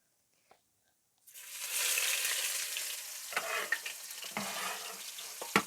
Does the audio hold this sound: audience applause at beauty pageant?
no